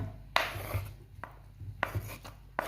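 A knife chops tomatoes on a cutting board for a Moroccan sardine kofta sauce, giving about six sharp, close chops at an uneven pace, with quiet pauses between strikes.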